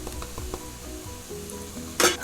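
Turmeric, masala and red chilli powder sauteing in a hot pan for egg bhujana, a short burst of close sizzling with light stirring, ending in a sharp metallic clink of a spoon against the pan.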